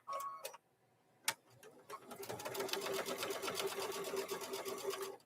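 Sewing machine stitching along the fold of fabric corners for abstract microwave bowl koozies, a fast steady mechanical rattle starting after a sharp click and running close and loud to the end.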